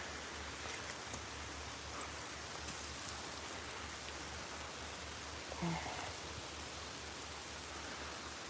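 Steady rain falling outdoors near water on an Ontario fishing trip, a soft even wash of hiss at a fair distance, faint and unbroken, with one small brief knock partway through.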